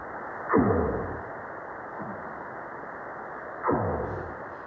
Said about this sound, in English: that is the sound of a northern right whale singing or calling or whatever it is doing